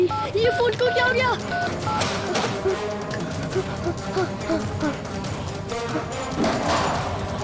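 Short electronic telephone key tones beep in quick clusters as someone dials a doctor in a hospital, over a busy background of voices and movement.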